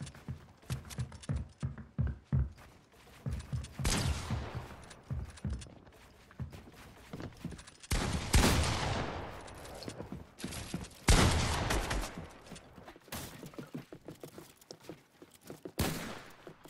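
Gunshots in Fortnite, sharp cracks in irregular clusters and short rapid bursts, with some louder close shots and quieter ones between, mixed with in-game footsteps.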